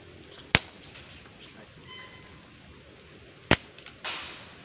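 A rubber-band slingshot fired outdoors, two sharp loud snaps about three seconds apart, followed by a short rustle and thud near the end; no talking.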